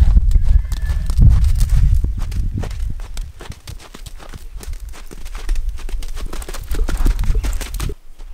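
A horse's hooves clop along on the way out to a paddock on a desert ranch in Namibia, a series of close, uneven thuds and scuffs, with a brief break near the end.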